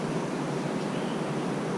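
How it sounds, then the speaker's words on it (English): Rapids on the Kunene River in Namibia give a steady, broadband rushing rumble, a constant wash of water noise with no breaks and no voices. "If you can hear a slight waterfall rumble in the background, that's because we are right next to the Kunene River"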